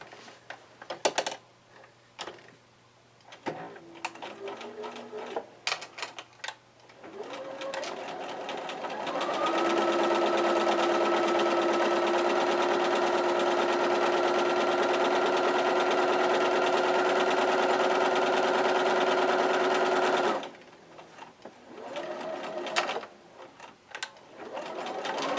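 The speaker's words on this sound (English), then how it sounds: "we're going to take the back piece and sew it to the top piece" Sewing machine stitching the back and top pieces of a layer-cake quilt together: a few slow stitches, then a long steady loud hum of continuous sewing for about ten seconds, with handling clicks before and after.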